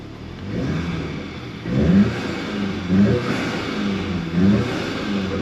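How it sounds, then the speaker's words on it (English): A 2018 VW GTI with an aftermarket blow-off valve revs in a series of rising surges, roughly three swells over a steady mid-range engine drone, fairly close and with no talking. "Sounds like a aftermarket blow-off valve as well."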